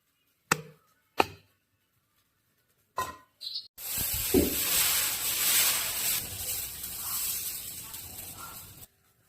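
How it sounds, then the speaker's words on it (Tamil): Oil and dosa batter hit a hot griddle, preceded by a few sharp taps and clinks, then a sustained sizzling hiss that fades as it cooks. "எண்ணெய் கொஞ্சம் ஊற்றிக்கலாம். தோசை ஊற்றி வச்சு சாப்பிடலாம்."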